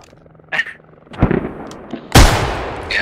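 Gunshots ring out in the military shooter Squad: a few scattered cracks, then one loud nearby blast with a long rolling echo, set against a quiet outdoor background.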